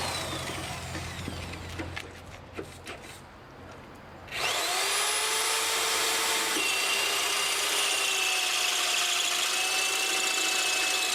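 A power drill bores out and enlarges a hole during a lightbar and mudflap hanger install on the Black Knight. A few seconds of scattered scraping lead into a loud, steady, high-pitched whine that runs nonstop to the end.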